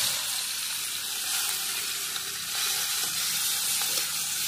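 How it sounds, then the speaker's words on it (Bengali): Shrimp frying lightly in a little oil, a steady bright sizzle and hiss from the pan, close and continuous with no voices. "অল্প তেলে ভেজে নিচ্ছি"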